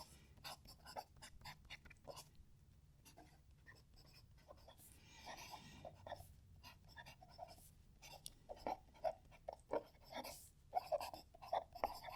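A Pelikan M1000 fountain pen writes on paper in close, quiet detail, giving soft scratchy strokes in short bursts that grow into quick, rhythmic squiggles toward the end.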